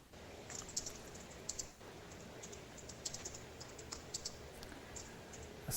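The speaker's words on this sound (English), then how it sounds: "I can hear the typing." Rapid typing on a computer keyboard, a steady run of small clicks with a few sharper key strikes, heard faintly over a Skype call line with background hiss and no talk.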